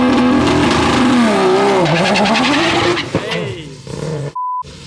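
A Barra-engined Ford Mustang GT350 roars loudly through a burnout and drag launch, with the engine pitch rising and falling and tires squealing, followed by a brief shout and a short electronic beep.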